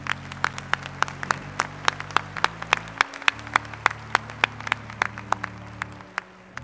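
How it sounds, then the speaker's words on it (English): Applause fills a university commencement hall for Plant and Soil Sciences graduates, with sharp individual claps standing out over a steady low hum, fading near the end. "Round of applause for all our students from Plant and Soil Sciences."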